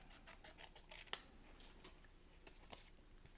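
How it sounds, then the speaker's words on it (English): Scissors snip around a stamped paper sentiment for a handmade card, making a few faint, crisp cuts in irregular rhythm. One sharper snip stands out, with soft rustling in between. "I'm going to grab my scissors and I'm just going to cut around it."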